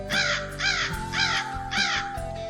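A crow caws four times in a slow, even rhythm inside a narrated legend, each caw harsh and loud, with a low steady music bed underneath and no voice.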